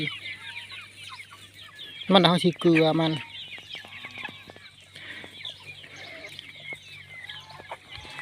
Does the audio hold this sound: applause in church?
no